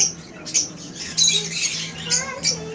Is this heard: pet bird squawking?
yes